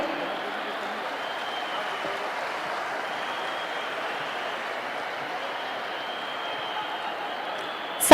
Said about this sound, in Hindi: आइए आपका जोरदार तालियों से अभिनंदन करें